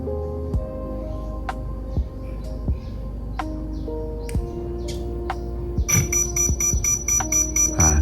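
A Hobbywing QuickRun Fusion Pro Elite 2300KV ESC on a 3S battery beeps while its button is held: a series of short single tones, then a fast rapid beep pattern near the end, close and clear.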